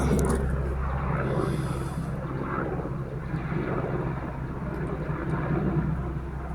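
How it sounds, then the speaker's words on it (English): A helicopter drones overhead, a steady, heavy engine roar that fills the whole stretch without letting up. "That's a big helicopter, look at that."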